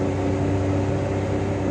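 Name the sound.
car air conditioner switching on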